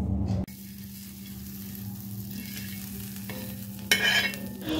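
A sandwich toasts on an ordinary everyday chapati griddle, giving a steady low sizzle and frying hiss throughout, with a brief louder crackle near the end; no one speaks.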